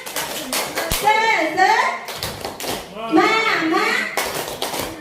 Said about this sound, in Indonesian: Tepuk semangat dulu Bapak Ibu.